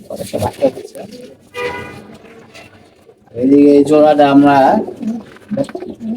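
Pigeons cooing in a loft where army pigeons and silver-throated young birds are kept, soft repeated coos with a louder, longer burst midway, mixed with nearby talking.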